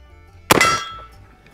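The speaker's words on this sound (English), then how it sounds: "All right, let's shoot a gong." A single loud clang as a round from an original 1873 Springfield trapdoor carbine strikes a steel gong, a sharp metallic hit that rings out and decays over about half a second, with no talking.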